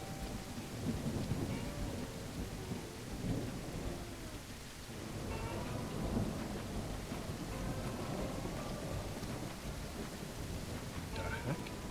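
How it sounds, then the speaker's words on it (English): A thunderstorm in the train-building game Railroads Online: steady heavy rain hiss with low rolling thunder rumbles swelling and fading throughout, faint voices occasionally underneath. "You have a thunderstorm. I've just got rain."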